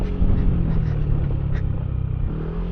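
Motorcycle on an off-road dirt track through rice fields in Quirino Province, steady close engine rumble and clatter throughout, no voices.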